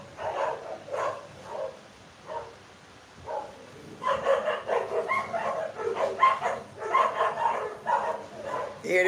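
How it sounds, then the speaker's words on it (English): Dog barking outdoors at a distance, repeated bursts of barks and yips that grow busier and denser in the second half, with faint talk mixed in at times. "Hear the dog getting so bad out there."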